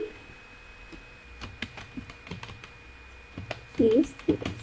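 Keys clatter on a computer keyboard in short, irregular bursts of close clicks, with a brief voice cutting in near the end.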